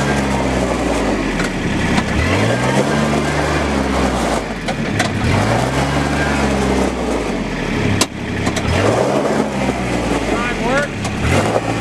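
A 2012 Kubota RTV900XT diesel utility vehicle with power steering and a plastic top, its engine running steadily up close with pitch rising and falling as it revs, while someone talks over it throughout.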